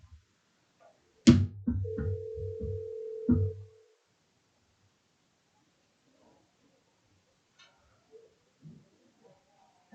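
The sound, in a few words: telephone dial tone and ringing on a call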